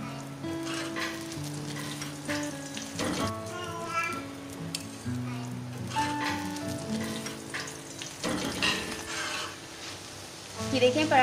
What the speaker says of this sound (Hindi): अब इस टाइम पे हम इसमें घी शामिल कर देंगे।